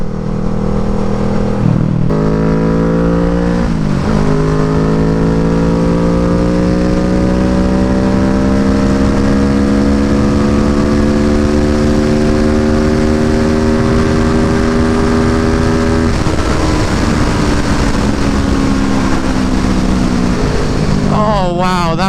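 A motorcycle accelerates through the gears on an open road, engine pitch climbing steadily with a couple of shift drops, then holding a long sustained pull at part throttle, loud and close with wind noise.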